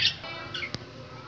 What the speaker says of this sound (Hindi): आपको दिखाते हैं तोते।